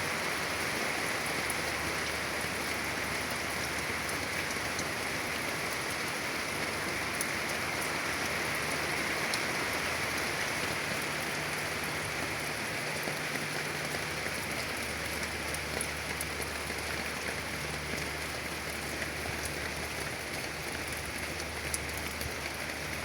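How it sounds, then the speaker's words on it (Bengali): Heavy rain with hail pours down outdoors in Gazipur under a dark sky, a dense, even roar of drops drumming on surfaces throughout, with no voices. "প্রচুর পরিমাণে শিলাবৃষ্টি হইতেছে"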